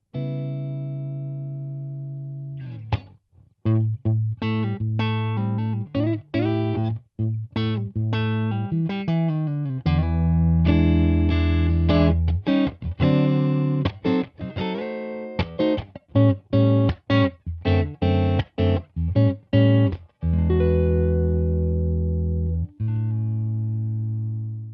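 Overdriven electric guitar through a tube amp plays a riff of choppy, palm-muted chords and bends, moving from gritty sustained notes into rapid, stop-start strums. Loud and close.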